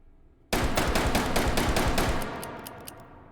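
A Smith & Wesson M&P R8 revolver fitted with a stock and compensator fires in the VR shooter H3VR. Close, loud shots crack out in a rapid string over about two seconds, followed by a fading echo.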